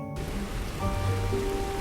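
Rain falls steadily in a soft, continuous patter with scattered drops, heard alone and not loud throughout.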